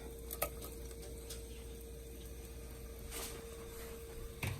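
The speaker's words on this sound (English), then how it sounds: "So over medium heat, I am melting some butter inside the pan. We're going to add in our shrimp." Shrimp sauté in melted butter in a pan over medium heat, giving a soft, steady sizzle with a few sharp clinks and scrapes from stirring.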